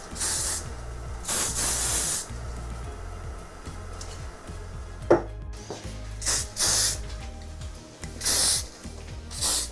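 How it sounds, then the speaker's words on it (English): Hairspray hisses from a can in several bursts of varying length, close and fairly loud, with short quiet gaps between the sprays. "Hairspray."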